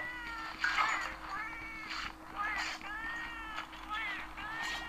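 Cats in the Monster Hunter Portable 3rd video game meow repeatedly, wanting food, with several drawn-out, rising and falling mewls following one another at a steady pace, clear and close.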